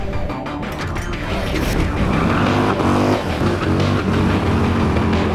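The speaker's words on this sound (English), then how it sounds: "Do some sick burnouts, do some brake skids" A 2024 Harley-Davidson CVO Road Glide ST with 127 horsepower does a burnout, its engine roaring loud and close under a heavy rushing hiss of tire spin that holds steady throughout.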